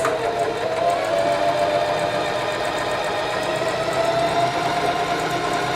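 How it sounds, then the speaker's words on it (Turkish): A Bernette Sew&go 3 sewing machine runs continuously while stitching fabric, a steady close whirring hum with a sustained whine and fine rapid mechanical ticking, alone without talk. "Ve pedalımıza bastığımızda makinemiz dikişimize hazır."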